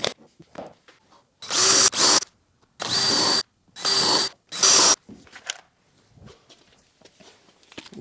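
A power drill drives screws partway into a wooden contemporary mantel miter joint, with four loud whirring bursts of a second or two each and quieter handling clicks and taps around them, close by with no voices.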